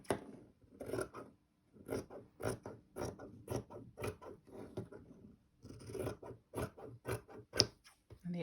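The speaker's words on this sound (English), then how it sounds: "And now I'm just cutting off the extra bits here." Scissors snip off extra bits of fabric from a homemade cast cover, making a steady series of close, quiet crisp cuts with brief pauses between them.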